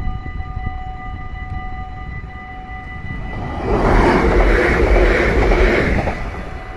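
A Dutch SNG (Sprinter Nieuwe Generatie) electric train arrives at a station, a steady tonal hum and whine swelling into a louder rumbling, rushing roar as it draws near.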